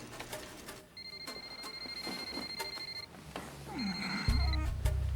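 A home telephone rings with a repeated electronic trill in two bursts, fairly quiet, under room noise and soft movement.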